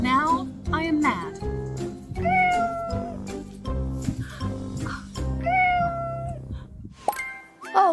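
A pet cat meowing repeatedly, several distinct close, clear meows in an uneven rhythm, with a voice talking and calling around them.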